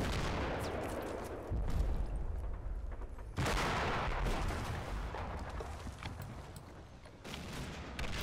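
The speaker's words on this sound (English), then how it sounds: "That sounded like a big explosion." Heavy explosions and gunfire, likely mortar rounds, in the Combat Mission WWII tactical game, with loud broadband blasts at about 1.7 and 3.3 seconds over continuous rumbling battle noise.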